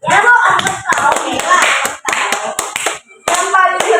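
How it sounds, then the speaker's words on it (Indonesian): Students in a classroom clap loudly and close by for a winning student group, with children's voices mixed in and the clapping briefly dropping off twice before resuming. "Tepuk tangan dulu buat kelompok lebih"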